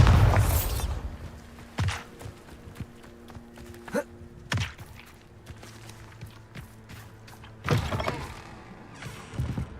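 Repeated Bombarda explosion spells from Hogwarts Legacy, each a sharp thudding blast with a short booming tail, spaced several seconds apart against quiet game ambience with faint footsteps.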